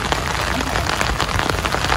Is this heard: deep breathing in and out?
no